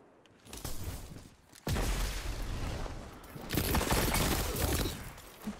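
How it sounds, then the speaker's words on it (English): Burst-fire gunshots from a Destiny 2 multiplayer match crackle in loud volleys, a short burst early, then longer sustained rattling runs, close and dense, with no voices. "How did you melt me in 3 shots? It's a burst fire."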